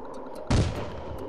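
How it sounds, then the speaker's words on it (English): A firework blast in the video game Goat Simulator: one sudden loud boom followed by a rumbling, hissing tail that fades over about a second, with no talking. "I just hit a random firework."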